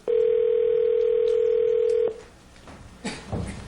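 A telephone dial tone hums loud and steady for about two seconds while a call is placed, then cuts off, leaving faint line noise and soft rustling.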